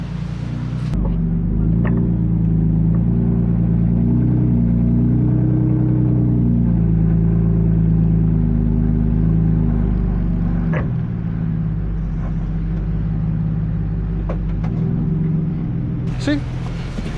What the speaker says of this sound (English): give it some gas, start going.